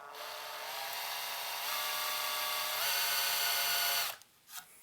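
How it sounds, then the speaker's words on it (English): An electric drill boring a hole into a tube amplifier chassis, a steady whirring motor whine that rises slightly in pitch and cuts off near the end, followed by a brief faint knock. "it's probably going to be enough to get the drill started without it walking"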